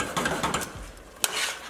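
A wooden spoon scrapes and stirs across the bottom of a pan holding beef and its juices, giving a few quick, close scratchy strokes with a sharp knock near the end.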